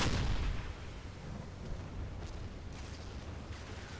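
A submarine deck gun fires in the naval game Silent Hunter 3, a heavy boom at the start trailing into low rumbling rough-sea and wind noise, with fainter thuds after.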